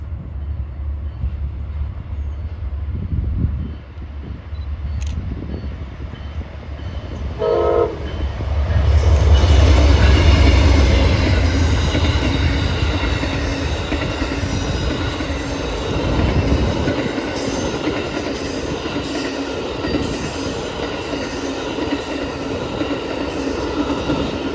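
A long Amtrak passenger train passes on a South Florida rail line near Miami: a loud, building rumble and rolling clatter of cars, with a brief horn blast before the train arrives, heard up close with no talking.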